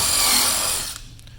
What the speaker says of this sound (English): We're going to pilot our are holes through the front trim into the case sides